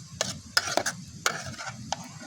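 Wild boar meat is stir-fried with gourd shoots: a utensil scrapes and clacks in quick, irregular strokes over a soft, steady sizzle, heard close but quiet, with no talking.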